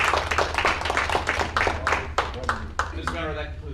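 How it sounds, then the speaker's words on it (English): A school board meeting audience applauds, a burst of steady, dense clapping that tapers off over a few seconds, with a voice coming in near the end. "Can we give them all a round of applause"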